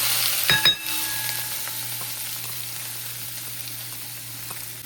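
Cumin seeds and capsicum hit hot oil in a pan with a short clatter and a metallic clink at first, then settle into a quiet, even sizzle close by with no talking.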